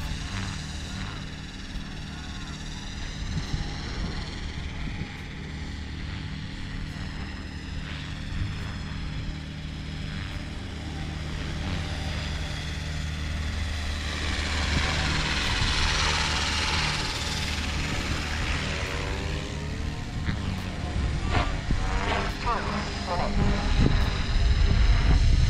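A Trex 500x RC helicopter flies backwards outdoors, its rotor and motor giving a steady, fairly loud drone that builds toward the end, with wind buffeting the microphone.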